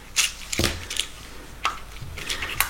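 Adhesive tape peeled off a cardboard parcel box during a home unboxing of a shopping haul, a series of close crackling rips and scratchy bursts with some handling noise between them.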